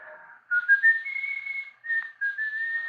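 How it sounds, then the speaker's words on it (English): A person whistles a wavering tune in a radio drama, close and clear against silence, in several sustained phrases with short breaks between them. "I noticed that the whistling stopped like being cut in two by a knife"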